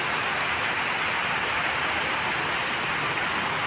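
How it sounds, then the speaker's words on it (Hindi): Heavy rain pours down at a hilltop tourist site, a loud, dense and unbroken hiss of drops beating on surfaces close by, with no voices. "बारिश भाई बहुत तेज़ बारिश से चालू हो गई है।"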